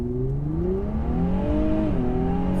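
A 2020 Infiniti Q60 Red Sport 400 accelerates, its exhaust droning with a rising engine tone that climbs through gear changes, loud and close from inside the car, with no talk.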